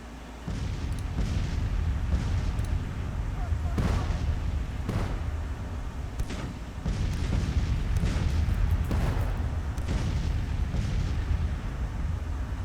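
Artillery fires in the Civil War strategy game Grand Tactician, repeated deep booms spaced a second or two apart over a constant low battlefield rumble, loud and close.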